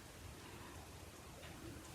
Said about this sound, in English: it sounds like it's drizzling a little bit